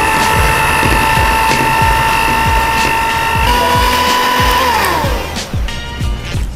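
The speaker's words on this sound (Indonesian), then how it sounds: "kemudian mixer dengan kecepatan sedang" An electric mixer beats cream at medium speed, giving a loud, steady, close whirring hum with rhythmic thumps of the beaters. Toward the end the pitch drops as the motor slows.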